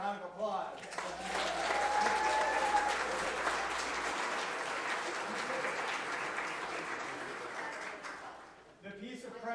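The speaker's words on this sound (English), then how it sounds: "How about a round of applause?" Congregation applauding during a church Sunday service, a broad sustained wash of clapping filling the room for several seconds before tapering off, with voices briefly audible at the edges.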